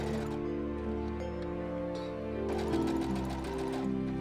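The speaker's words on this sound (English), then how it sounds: "Then I sewed my bodice side seams together." A sewing machine stitching the side seams of a witch-dress bodice runs steadily and close, a continuous even whirr with a brief quickening in pace, heard alone without talk.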